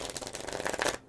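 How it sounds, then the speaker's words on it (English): A deck of playing cards being riffled and shuffled, a dense run of crisp, fluttering card snaps lasting about a second, close and fairly loud with no talk over it. "the sound of riffling, shuffling cards"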